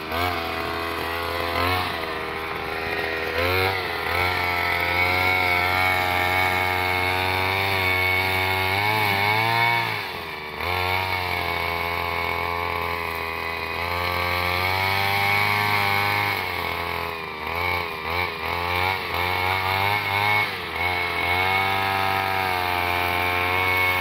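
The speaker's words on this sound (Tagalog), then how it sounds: "kung paano siya buhayin itong mga grass cutter natin" A grass cutter's small engine runs continuously during a test, a loud, buzzing two-stroke drone with slight rises and dips in revs over about twenty-four seconds, close to the microphone and without talk.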